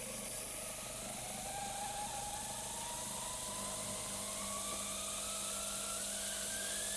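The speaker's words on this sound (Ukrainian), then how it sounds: "Так, пара пішла, фіксуємо." A Grünhelm GSTC400 handheld steam cleaner releases steam in a steady, even hiss that runs unbroken throughout and swells slightly toward the end.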